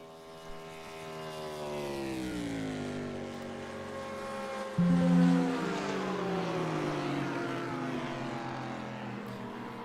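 Two Porsche race cars battling at the 2022 Rolex 24 Hours of Daytona, their engines a loud, continuous droning roar that rises and falls in pitch as they pass, with a brief swell midway.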